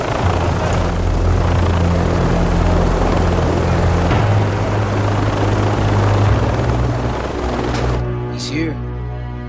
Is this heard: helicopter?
yes